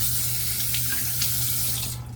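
Tap water runs steadily into a bathroom sink for a rinse during a shave, a close, continuous splashing hiss with a low hum beneath, no voices.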